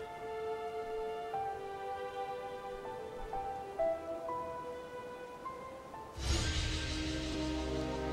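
Steady rain patters under a melodic music score during a romantic cutscene in Assassin's Creed Unity, set in Paris with a hot-air balloon, and a denser wash of rain swells near the end.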